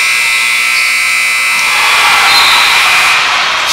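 A loud, sustained electronic buzzer sounds at the end of a school basketball game, a harsh steady tone lasting several seconds close to the microphone.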